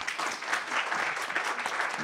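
An audience applauds after a speech at a cultural-institution debate, a steady wash of many hands clapping continuously at moderate level from start to finish, with no voices over it.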